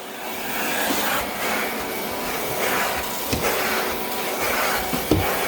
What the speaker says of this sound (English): All right, enough vacuuming.